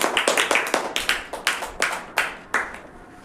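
Enthusiastic applause from a class-8 mathematics classroom audience, a dense run of sharp hand claps lasting about three seconds before tapering off, with no talking over it.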